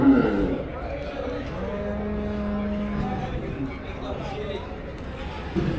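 Cattle low at the Melapalayam cattle market, a steady drawn-out moo in the middle at moderate distance, under ongoing talk and crowd noise.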